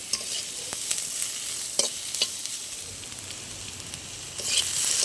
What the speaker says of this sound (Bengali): আমার আলুগুলো অনেকটাই লাল করে ভাজা হয়ে গেছে